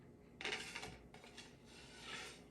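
A butter knife spreads Nutella across a slice of bread for a banana sandwich, giving soft, close scraping strokes in a few short bursts, quiet and without talk.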